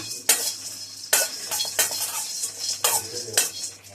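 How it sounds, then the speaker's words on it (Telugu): Cinnamon stick and cloves fry gently in a pan over a low flame. A faint sizzle sits under repeated close metallic scrapes and clinks from a spatula stirring against the pan. "ఈ మొత్తం కూడా సిమ్లోనే వేయించాలి"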